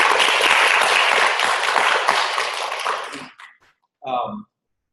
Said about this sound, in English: Let's give Anna a round of applause.